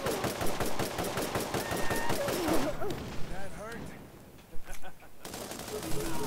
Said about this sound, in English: Oh, that's a fast fire weapon.